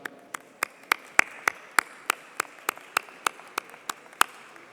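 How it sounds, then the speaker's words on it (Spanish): Slow, evenly spaced single claps sound through a solemn assembly session commemorating earthquakes, a steady rhythmic beat of distinct hand claps rather than a dense ovation. "de la fallecida perrita rescatista Frida, para quien pido un fuerte aplauso."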